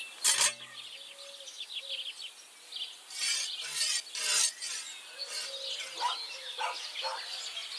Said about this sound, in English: Try moving the sword along the anvil so you can get the hang of it.